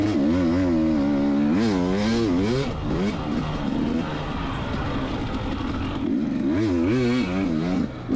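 A dirt bike with an FMF exhaust revs loud and near at a high desert motocross track, its engine note rising and falling in repeated throttle sweeps, with no talking.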